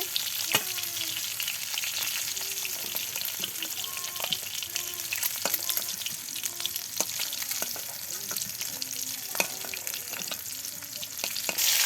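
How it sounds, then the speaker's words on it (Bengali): Eggs and fish frying in oil in a home kitchen, a loud continuous crackling sizzle with frequent sharp spits and pops, close up and alone for the whole stretch. "আর মাছটা আর একটু ভালো করে ভাজবে"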